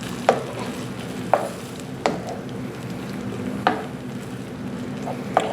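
Cooked potatoes are broken up and stirred in butter in a pan, with a soft steady sizzle under it. Five sharp spoon knocks land against the pan at uneven intervals, close by and with no voices.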